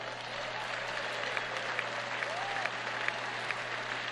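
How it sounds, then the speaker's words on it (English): Thin, sparse applause from a political conference audience, a light smattering of scattered claps held under a steady broadband room hum, distant and faint with no voices. "the applause is only a smattering at this point"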